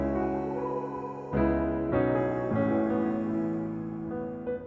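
Piano through the Arturia Arcade plugin with delay and reverb added, soft sustained chords changing every half second or so, blended with a washy lingering tail, no talk.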